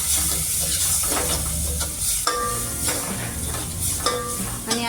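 Chili powder, asafoetida and sambar masala are stirred into a frying tempering for a sambar dish served with medu vada. A steady sizzle runs throughout, with spoon scrapes and brief clinks against the pan.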